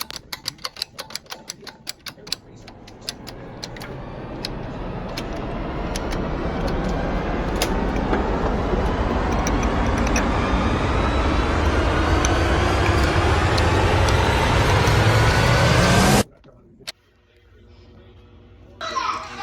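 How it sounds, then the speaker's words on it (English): A hydraulic press bending new ZL1 big block Chevy exhaust headers, a steady loud mechanical whine that rises gradually in pitch over many seconds and then cuts off abruptly, followed by quieter clanks. "Got the header over here on the press. I'm gonna try to press them down."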